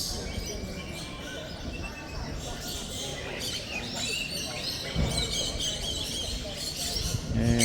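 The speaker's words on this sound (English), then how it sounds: "So there's all types of birds here." Small caged finches and other birds chirp busily inside an indoor bird expo hall before opening, a dense layer of tweets under steady crowd murmur and nearby voices.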